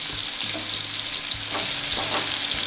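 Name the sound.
stuffed bitter gourd frying in oil on low flame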